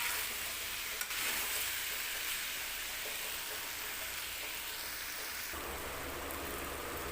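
Diced potatoes fry uncovered in an open pan with very little oil, a steady dense sizzle and crackle continuing throughout at close range, with occasional stirring scrapes and no voices.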